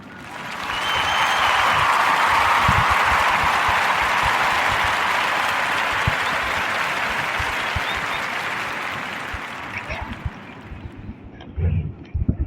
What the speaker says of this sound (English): we're going to clap it up for this sister